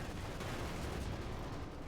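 Tank and field gun fire from a Company of Heroes 2 battle between a T-34 and a Panzer sounds as faint, dense rumbling gunfire and explosions under a continuous battle din.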